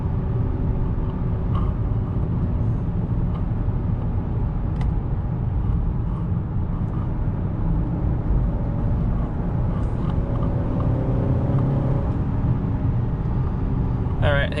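A 2021 Honda Accord 2.0T Sport cruises along a canyon road, a steady low engine and road drone with tire rumble, continuous and even, with faint interior noises near the end.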